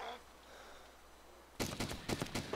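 Gunfire in the survival game DayZ Origins: after a quiet stretch, a sudden rapid burst of several loud, sharp shots rings out close by.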